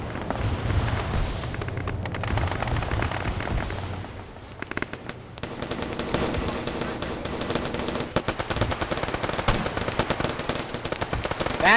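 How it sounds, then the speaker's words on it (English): Dense gunfire and rocket blasts from a military shooter game, continuous bursts and loud explosions packed together, with a brief lull around the midpoint before rapid firing resumes. "Another RPG."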